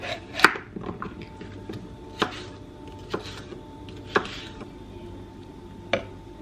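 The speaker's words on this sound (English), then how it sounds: "Just going to shatter the fibres of my lemongrass" Fresh lemongrass stalks are struck hard on a kitchen board to crush the fibres, giving about half a dozen sharp, separate thuds spread at uneven intervals, close and clear.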